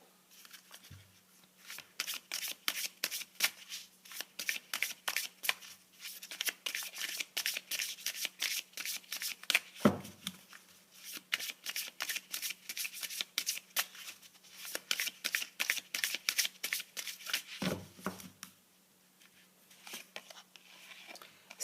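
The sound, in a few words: tarot cards being shuffled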